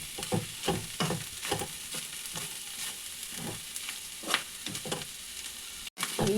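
Vegetable thoran frying and being stirred in a pan, a low sizzle broken by regular scraping strokes of the spoon, close and moderate, with no speech.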